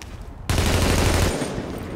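Submachine gun fire in the video game Tom Clancy's The Division erupts abruptly as one loud, dense automatic burst lasting about a second, then fades into reverberant tail.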